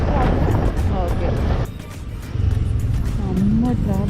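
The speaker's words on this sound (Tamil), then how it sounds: "செம்ம டிராஃபிக் இங்கே டோலில்." Heavy traffic at a Chennai highway toll plaza: a steady, loud wash of car and motorbike engines close by, with a horn blaring near the end and a voice speaking over the roar.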